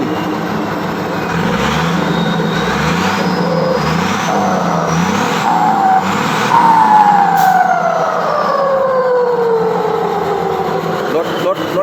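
A Mitsubishi 195 truck fitted with a big turbo revs hard, its engine note rising and falling in long sweeps with a turbo whine climbing over it, loud and close, with a voice briefly heard.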